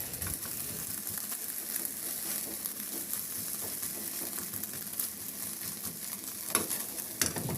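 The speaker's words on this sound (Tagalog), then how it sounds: "Naglagay na ako ng mantika sa kawali at lutuin na natin yung itlog. Gawin natin yan scrambled egg." Beaten eggs scramble in hot oil in a pan, a steady close sizzle broken by occasional scraping stirs, with no voices.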